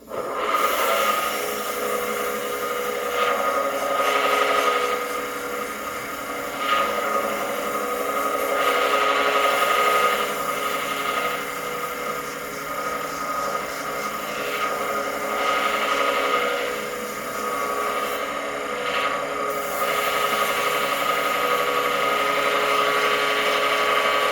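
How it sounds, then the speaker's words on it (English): A turned pen blank spinning on a lathe is sanded with 400-grit sandpaper, giving a steady whirring motor drone with a soft, continuous abrasive hiss that swells and eases as the paper is pressed on and lifted. "So anyway, onto the 400 for sanding."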